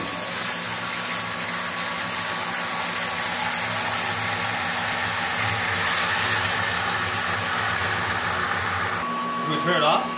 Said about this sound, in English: try turning the pump on